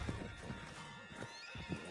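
Horse hooves clip-clop at a gallop in Red Dead Redemption 2, a steady rhythmic beat up close with occasional whinnies, heard alone without talk.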